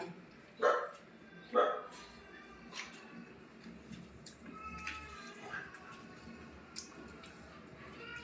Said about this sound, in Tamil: நாய் வேற குறைக்கிறது